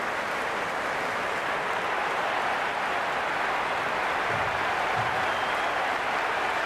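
Packed cricket stadium crowd at an IPL match between Royal Challengers Bengaluru and Sunrisers Hyderabad, a steady, loud roar of cheering voices blended into a dense wash, sustained throughout with a couple of low thumps.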